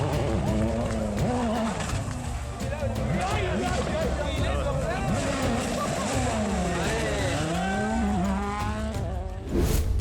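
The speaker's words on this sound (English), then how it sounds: "that racing car's engine is a real powerhouse" A racing car engine roars steadily throughout, its pitch rising and falling as it revs through gear changes and turns, loud and close.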